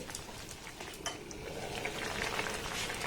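Soft sweets simmer gently in sugar syrup in a covered pot on a gas stove, a steady low bubbling and hiss with a few faint clinks, close and quiet throughout.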